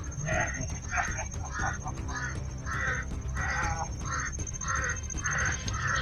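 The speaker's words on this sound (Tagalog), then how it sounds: "hindi tumitigil yung ano talaga yung ibon. Uwak dito." Crows caw repeatedly in a steady series of harsh, rasping calls, fairly close and loud, with low background noise and some speech mixed in.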